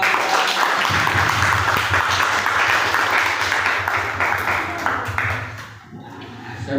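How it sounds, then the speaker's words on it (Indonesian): A classroom group receives sustained applause, with many hands clapping continuously for several seconds before the sound tapers off. "beri aplaus untuk kelompok"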